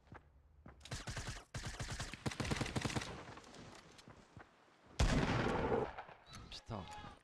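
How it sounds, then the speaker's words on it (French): Gunfire in the video game Fortnite during an esports match: bursts of rapid repeated shots in clusters, then a loud sharp volley with ringing tails, close and dominant. "Là, il essaie de me mettre une balle."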